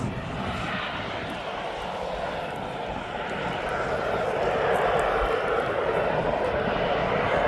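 An airliner on the Corfu flight arrives at East Midlands Airport, its engine roar building steadily and growing louder toward the end, with people talking faintly underneath.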